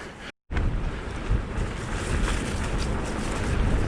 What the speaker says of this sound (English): And the wind's picked up, or seems to have.